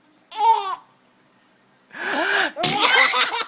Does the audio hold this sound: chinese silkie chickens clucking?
no